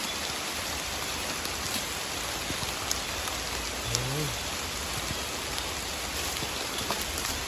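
Steady rain falls in a bamboo grove while shoots are being foraged, a constant dense hiss of drops with a brief faint bird-like chirp in the middle.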